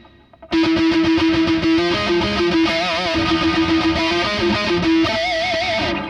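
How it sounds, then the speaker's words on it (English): A bright synth melody with a sustained lead tone, processed with spacious, distorted effects, playing steadily and loud without any voices. "We should add some reverb to this"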